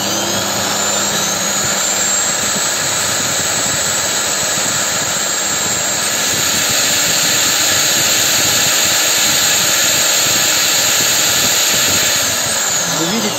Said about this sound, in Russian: И начинаем крутить дрелью в реверсе.